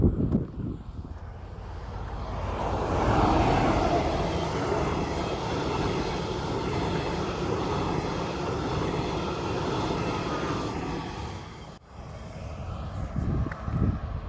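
Steady rumble and rattle of a moving train carriage, a continuous low roar with wind-like hiss, briefly dipping near the end before resuming.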